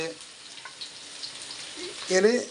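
Ginger and garlic sizzle faintly in a frying pan while a mutton dish is being cooked, a soft steady hiss that swells slightly near the end as a voice briefly speaks.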